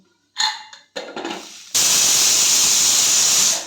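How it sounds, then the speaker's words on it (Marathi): A pressure cooker on a gas stove, cooking misal, releases steam in a loud, sustained hissing whistle that starts abruptly and continues steadily, preceded by a couple of short bursts. "दोन शिट्ट्या झाल्यात आता मी गॅस बंद करते"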